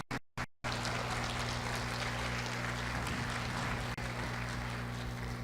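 An audience at a national congress applauds to welcome a lecturer, a dense, sustained clapping that holds steady after a few short bursts at the start, with no voices over it.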